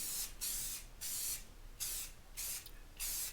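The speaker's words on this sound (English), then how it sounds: "hit them with a couple of 3 light coats of black spray paint" Black spray paint hisses from an aerosol can onto drawer hardware in five short, even bursts separated by brief pauses, close and fairly quiet.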